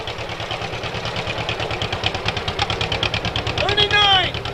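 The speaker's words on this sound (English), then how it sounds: "And that's what a John Deere sounds like." An antique 1939 John Deere tractor engine runs at a steady idle, a low rhythmic chugging that carries on throughout at a tractor show while people talk over it.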